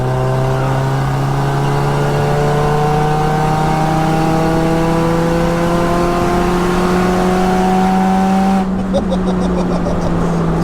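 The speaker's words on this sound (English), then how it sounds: "You can hear the turbo, proper spooling." A turbocharged, 601 bhp four-wheel-drive Cupra R engine revs hard and climbs steadily in pitch under heavy acceleration, with a rising turbo whine, then a sudden shift near the end; loud and close.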